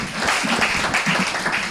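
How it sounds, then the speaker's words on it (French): Congregation applause at a French-language church sermon, a dense, steady wash of clapping for nearly two seconds with faint voices and cheering mixed in. "Applaudissez-moi un peu Jéhovah."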